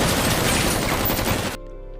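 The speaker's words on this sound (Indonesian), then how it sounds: "Mereka lalu menembaki mobil tersebut" A dense volley of rapid gunfire is aimed at a car in the 2022 action film Blind War, loud and continuous for about a second and a half before cutting off abruptly to a quiet tonal background.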